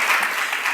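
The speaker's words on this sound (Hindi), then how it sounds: "जोरदार तालियों के साथ इनका सम्मान करें।" Audience in an Indian High Commission hall in London claps loudly for an honoree at a Hindi Diwas award ceremony, a brief burst of dense applause.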